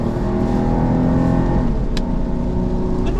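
A Jeep engine rumbles steadily at a loud, close level, holding a low harmonic drone with a slight rise, no voices present.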